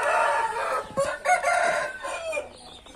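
A rooster crows among crowded flocks of chickens on a farm during heavy rain, a loud close cock-a-doodle-doo with overlapping clucks and calls.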